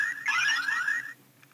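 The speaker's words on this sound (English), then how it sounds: "that's the standby mode, if it's not in use." Power Rangers Samurai Samuraizer deluxe toy in standby mode gives a short electronic chirping tune of rising beeps held close to the microphone, lasting about a second before fading to quiet.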